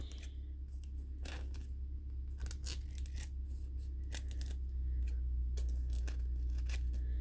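Scissors snip through a plastic sheet while a shaker window card is made, as a run of sharp, close cuts spread across a quiet room with a low hum.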